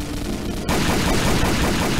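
Gunfire in the video game Combat Arms: after a quieter stretch, a sharp burst breaks in and continues as dense, rapid automatic shooting, loud and close, with no talking.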